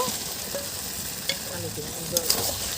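New potatoes go into oily spice paste for Bengali aloo dum and sizzle steadily, with a few scraping stirs and light utensil clinks close by, no voices.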